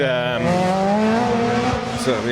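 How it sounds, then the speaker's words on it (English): A noisy car passes close by, its loud droning engine note holding steady and then sweeping upward near the end, with faint voices underneath. "There's another noisy car."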